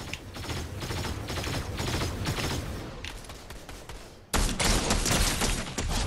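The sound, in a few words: gunfire in a video game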